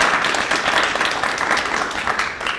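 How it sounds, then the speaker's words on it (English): An audience applauds steadily after a talk at a ballet company's season announcement, a dense, even wash of many hands clapping close by, without pause, for nearly three seconds. "Let's all give a round of applause."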